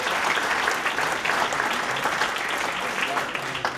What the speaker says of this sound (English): So give yourselves a round of applause for all that you do for our community.